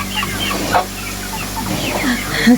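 Broiler chickens clucking in a poultry shed, several birds calling in short overlapping bursts at close range, with a faint low hum in the background.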